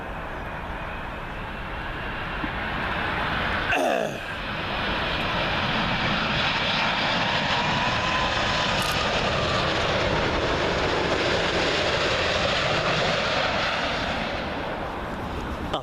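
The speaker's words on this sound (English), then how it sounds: "Up next, we've got Air India 787-9 Dreamliner in from Mumbai." An Air India Boeing 787-9 Dreamliner arriving from Mumbai at Heathrow Airport roars loudly and steadily throughout, a broad continuous jet engine rumble that swells slightly as it passes.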